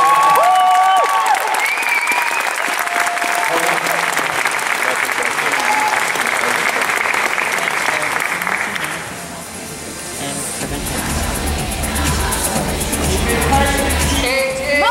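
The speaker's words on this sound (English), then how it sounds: "A round of applause for these guys." Loud, sustained applause and cheering from the crowd at a junior bodybuilding championship, a thick roar of clapping that dips briefly before music and voices come up underneath.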